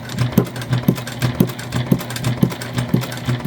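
A sewing machine stitching a seam through waxed waterproof canvas on a bucket bag, a close, steady mechanical hum with regular rhythmic needle thumps about twice per second, no talking.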